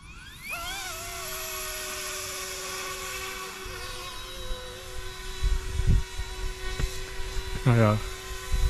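Eurocopter EC135 model helicopter running an automatic landing: a steady, close high-pitched rotor and motor whine holds throughout, with a sweeping tone early on and thumps near the end as it sets down.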